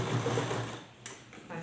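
A sewing machine stitching a frock bodice runs in a short burst of rapid needle chatter, close by, then stops with a small click and a brief rustle of fabric.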